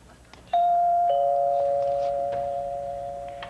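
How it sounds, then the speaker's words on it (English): A doorbell rings once after a brief quiet moment, its clear sustained chime starting abruptly and then slowly fading, heard alone and near. "let's just ring the bell and see who she wants."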